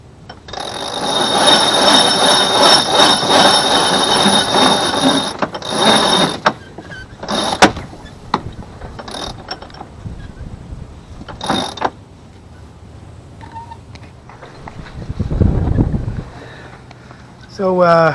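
The head sail of a sailboat is pulled out. Loud ratcheting winch clicks and rushing line noise come in bursts over wind, then quieter clicks and a low thump, with someone talking in between.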